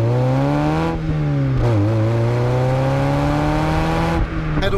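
Lotus Elise Heritage Type 79 sports car engine revving hard, a loud close drone climbing through the rev range with brief dips at the gear changes, and no talk over it.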